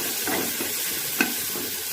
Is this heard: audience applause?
no